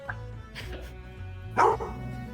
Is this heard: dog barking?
yes